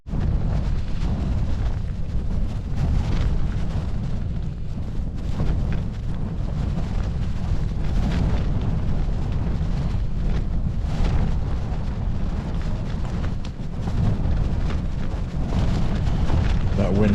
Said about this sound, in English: That wind's definitely getting up.